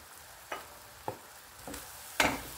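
Desiccated coconut going into a pan of milk for coconut burfi and being stirred, with four or five soft scraping strokes over a quiet background, the last one louder.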